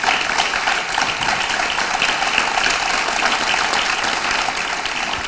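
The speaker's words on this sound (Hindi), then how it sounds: "तो जोरदार तालियों के साथ स्वागत कीजिए मशहूर एक्टर दानिश इकबाल जी का।" Sustained applause from a studio audience welcoming actor Danish Iqbal onto a TV news show, a steady, dense wash of clapping that holds at even loudness throughout with no talk over it.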